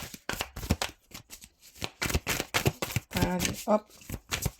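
Tarot cards shuffled by hand during a fire-sign reading, crisp riffling and slapping bursts close by, interleaved with someone speaking French.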